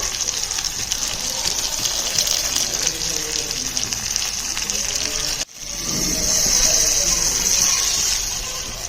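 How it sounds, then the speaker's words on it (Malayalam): Tamarind water pours into a pan in a steady rushing stream, stops abruptly for a moment, then resumes just as strong. "ഇനി നമ്മൾ പുളി അതിലേക്ക് ഒഴിക്കുക."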